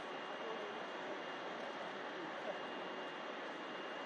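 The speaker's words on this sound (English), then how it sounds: "an EasyJet from Paris Charles de Gaulle arrives in" An EasyJet jet arriving from Paris Charles de Gaulle at a snowy Manchester Airport, heard as a steady, broad roar that holds at an even level throughout.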